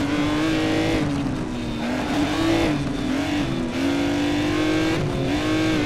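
A Pagani Zonda racing in Race Driver Grid, its engine holding a loud, steady high drone with small pitch swings through corners and tires faintly squealing, continuous and close.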